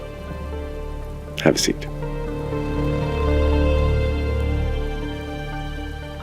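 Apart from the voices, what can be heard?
rain falling outside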